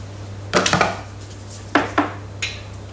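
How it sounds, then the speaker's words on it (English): A lid is set back onto a Thermomix while coffee date muffin batter is being made, giving a few sharp plastic clacks and knocks in two close clusters, then one lighter tap, over a steady low hum. "Put the lid back on."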